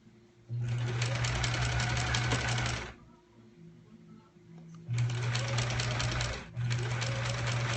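A sewing machine stitches the final seam of a quilt block: two long runs of rapid, steady mechanical whirring, loud and close, separated by a short pause, then a brief stop and a final burst.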